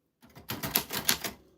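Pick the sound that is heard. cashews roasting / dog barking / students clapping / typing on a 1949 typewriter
typing on a 1949 typewriter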